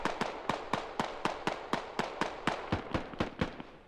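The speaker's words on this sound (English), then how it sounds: "Mortars coming in on these rocks, though." Mortar shells land in a rapid, steady string of sharp explosive thuds in Squad, roughly every quarter second, loud and close with no talking.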